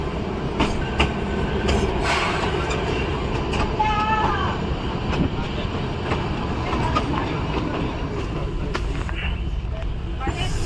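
A train stands at or rolls into Shimla railway station, with a steady loud rumble, clanking wagons, brief wheel squeals and scattered metallic clicks, close by and continuous, while people talk in the background.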